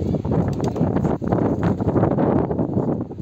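Loud gusting wind buffets the microphone with a constant roaring rush, dipping briefly before surging again.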